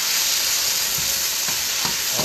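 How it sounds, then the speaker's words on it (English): Shrimp stir fry sizzles steadily in a hot wok, a continuous loud hiss with a few soft scrapes and stirs breaking through near the end, no talking. "Oh, you hear that sizzle."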